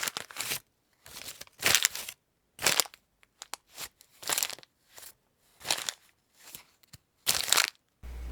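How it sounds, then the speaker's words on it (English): A plastic package of coffee beans is opened, with repeated close crinkling and crushing bursts in an irregular rhythm separated by short silences. "The package was a little hard to open, but I finally got it"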